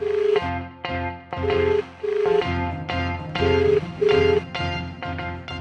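A telephone plays a series of short repeated tones in a steady rhythm, like dialing and ringback in a domestic scene. The tones sound clear and close, with no talk over them.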